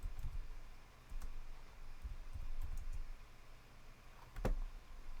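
Quiet keyboard typing at a computer, scattered soft key clicks in short bursts with a sharper tap near the end, faint and close with no voices.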